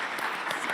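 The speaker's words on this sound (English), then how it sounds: "Thanks for the clap, everyone." Brief burst of audience clapping at a decentralized science conference in Berlin, steady and moderately distant, without talk.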